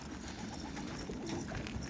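Pigeons in a coop give soft, low cooing calls over a continuous dense hum of the flock, fairly close and quiet.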